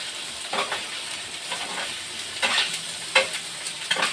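Pork tongue sautéing in a pan for adobo, a hissing sizzle broken by several bursts of stirring and spatula scrapes, close and fairly loud.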